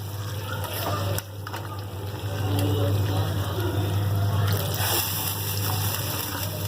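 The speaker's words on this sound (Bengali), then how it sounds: "এবার আমি পরিমাণ মতো জল দিয়ে দেবো" Water poured into a pan of simmering chicken curry, a steady loud rushing pour with a brief dip near the start, over a constant low hum from a stove or fan.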